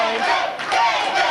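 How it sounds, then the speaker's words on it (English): A capacity crowd at the Uniontown VFW wrestling match cheering and shouting together, a dense, swelling roar of many voices. "As now you can hear this capacity crowd here at the Uniontown VFW"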